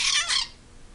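A pet talking bird gives one sharp, high-pitched squawk in two quick bursts, then falls quiet. It is close and fairly loud, with no speech.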